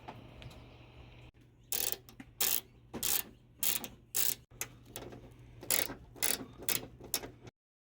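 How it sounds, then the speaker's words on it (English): Ratchet and screwdriver working screws out of the top hood of an EG4 hybrid solar mini split heat pump, giving repeated rapid ratcheting clicks in short bursts with brief gaps, close and moderately loud. "all you need to get into the top half of this is a Phillips screwdriver, maybe a little ratchet and an adapter"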